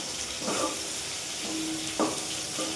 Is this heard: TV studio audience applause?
no